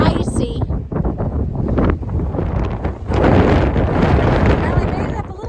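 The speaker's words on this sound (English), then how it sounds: "But you're going to really appreciate the wind from up here halfway up this fire tower." Strong wind buffeting the microphone on a fire tower halfway up a mountain, a loud continuous roar that surges and gusts throughout.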